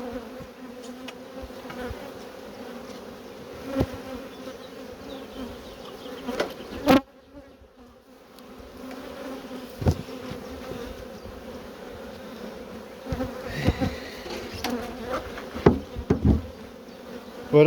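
Honeybees drone in a steady, close hum above an open hive, with sharp knocks and clacks of hive equipment breaking through now and then and a short lull midway.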